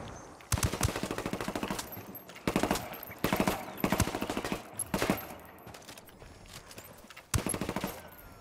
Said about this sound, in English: Lobbing a flashbang.